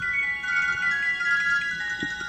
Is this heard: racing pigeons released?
no